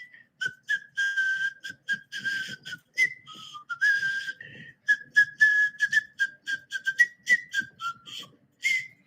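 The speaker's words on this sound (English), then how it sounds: "You have the whistling S version of Jingle Bells and the regular whistled version." Jingle Bells whistled by mouth, a clear melodic run of short bright notes in a close, quiet room with a few soft breathy pauses.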